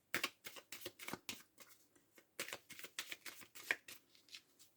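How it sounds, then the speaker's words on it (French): Cards are shuffled close up and quietly before a nine-card reading: a rhythmic series of soft riffles and slaps in short bursts, with brief pauses between them. "On va aller faire un tirage en 9 cartes aussi."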